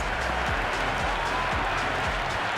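A cricket stadium crowd in the video game Cricket 26 roars and cheers in a dense, continuous wash of noise, loud and steady throughout with scattered claps inside it.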